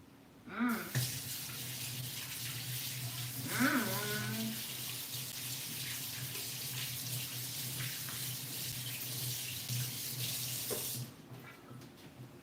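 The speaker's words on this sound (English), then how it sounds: "now I'm gonna wash my hands" Tap water runs steadily into a sink during handwashing, a continuous close splashing hiss that stops abruptly near the end, with a couple of brief vocal sounds early on.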